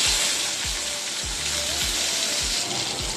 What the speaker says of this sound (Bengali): আমি কালো জিরে ফোড়ন দিয়ে দিয়েছি, ফোড়নটা ফেটে গেছে। আমি ওতে একটা ছোট্ট টমেটো দিয়ে দিচ্ছি।